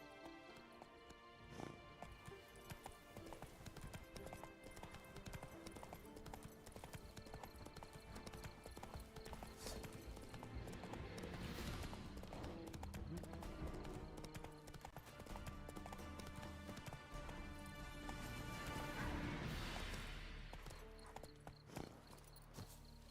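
A horse gallops in Witcher 3: Wild Hunt, hooves clip-clopping in a fast steady rhythm close by for a long stretch, occasional snorts mixed in with game ambience.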